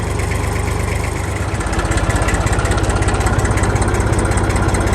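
A car engine idles steadily and loudly up close after being started in the cold without antifreeze, its low rhythmic chug running evenly throughout with no voices.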